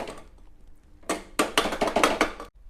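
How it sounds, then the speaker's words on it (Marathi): Khichdi scooped from a pot onto a plate, giving a run of close, loud scraping and clattering utensil strokes that bunch together over the last second and a half. "तुम्हाला आता मी प्लेटमध्ये काढून दाखवतो"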